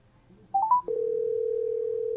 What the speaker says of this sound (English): So I'm going to make a phone call.